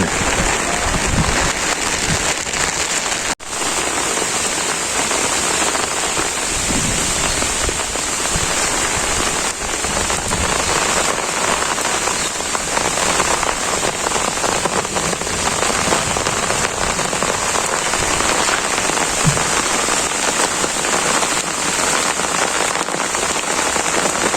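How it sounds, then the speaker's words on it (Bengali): Heavy rain pours steadily on a village homestead, a dense, even hiss of drops hitting surfaces that stays loud and unbroken throughout, with no talking. "বেশি বৃষ্টিতে রইলাম"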